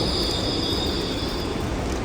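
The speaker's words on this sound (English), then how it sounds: "So I'm about to get on the train." A New York City subway train rolls into the station platform with a loud continuous rumble and a sustained high metallic wheel squeal, heard up close for about two seconds without talking.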